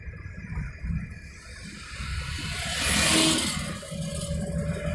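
A car picks up speed on an open single-lane road during a driving lesson, its engine rising steadily to a louder peak and then settling into a steady cruising hum, close and continuous.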